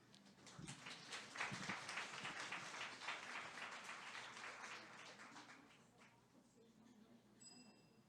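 Audience applause for a speaker presenting a talk on sexuality and couple psychology, a steady wash of clapping that swells early and fades out, with a few voices mixed in.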